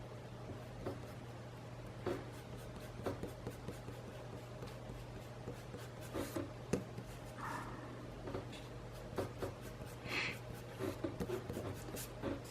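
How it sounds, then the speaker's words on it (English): Pencil lines being erased on paper, a string of short dry rubbing strokes close to the microphone, irregular bursts over a steady low hum with no talking. "Let me erase some of these lines."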